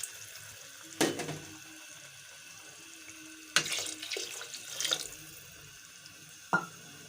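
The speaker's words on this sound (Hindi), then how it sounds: "अब इसमें ऐड करेंगे 2 गिलास पानी।" Water is poured from a glass into a cooking pot of vegetable pulao in a home kitchen, a few short splashing pours separated by quiet pauses.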